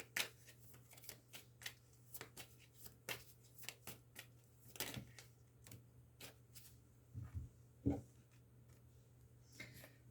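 Tarot deck shuffled by hand, a quiet series of soft riffling flicks and card taps in an irregular rhythm, close and faint with no talk.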